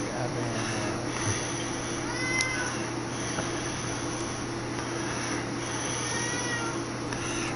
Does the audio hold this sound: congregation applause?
no